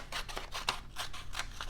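Scissors snip through paper for a beach-themed collage, a run of crisp, close cutting strokes repeating at a steady quick rhythm over a short stretch, with no talking.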